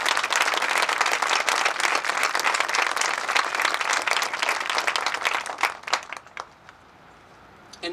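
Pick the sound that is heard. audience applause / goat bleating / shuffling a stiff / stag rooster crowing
audience applause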